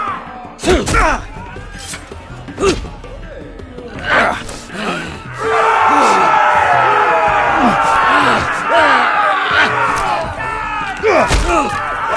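An arena crowd in a fantasy video game roars and cheers in a sustained swell from midway on, after scattered gasps, groans and thuds, with voices talking over it.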